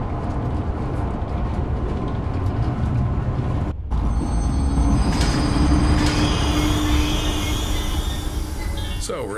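A train rolls along rails in the horror zoo simulator game Zoochosis, a steady loud rumble with a brief dropout partway through, then faint squealing tones above the continuous rolling noise.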